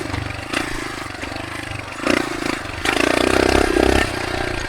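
Dirt bike engine droning and revving while riding through desert terrain, the pitch rising and falling with throttle, loud and close, with wind noise throughout.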